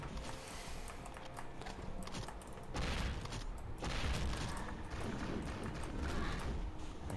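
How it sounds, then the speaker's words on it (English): A gun turret fires in the video game Hedon, giving a rapid run of sharp repeated shots and thumps over a busy, noisy game soundscape, growing heavier partway through. "Gun turret."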